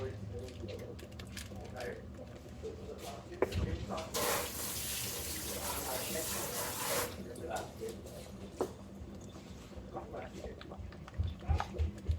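Water runs steadily for a few seconds, a broad hiss like pouring from a tap into a container, with voices and household clatter around it.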